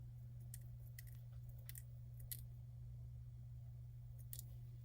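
Scissors snipping paper for a handmade unicorn cake card, several short crisp cuts in small bursts over a steady low hum, close and fairly quiet.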